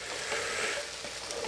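Beef stock is stirred into a slow cooker beef casserole, giving a brief, wet, hissing swish of liquid being mixed, steady and close.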